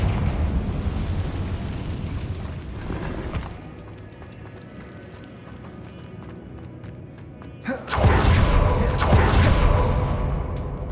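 Confringo fire spell blasts in Hogwarts Legacy, loud roaring bursts at the start and again near the end, with a quieter stretch of rumbling ambience between them.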